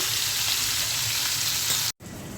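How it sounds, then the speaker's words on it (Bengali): A whole tilapia fish fries in a pan of oil with a dense, continuous loud sizzle, briefly cutting out for an instant before resuming. "একটা আস্ত তেলাপিয়া মাছ ভেজে নিচ্ছি।"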